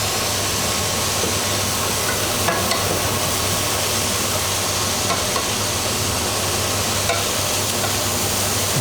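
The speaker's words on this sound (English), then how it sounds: "Sizzle." Food sizzles and fries in a pan on an indoor stove, a loud steady crackling hiss over a low droning hum, with a few faint clinks of stirring and no talk.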